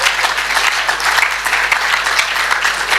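Audience applause at a spiritual discourse event, a loud, dense, sustained clapping from many hands close by, continuing steadily throughout.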